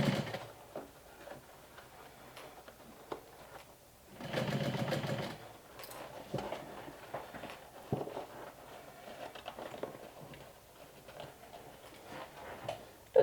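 A sewing machine stitching fabric for a mini top hat, one steady whirring run of about a second and a half midway, surrounded by quieter handling clicks and taps, close and without talk.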